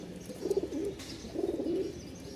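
Two rounded bouts of low cooing from a Bashiraj pigeon, a male in breeding condition kept among other pigeons in a loft, each about half a second long with a gap between them, under a faint background.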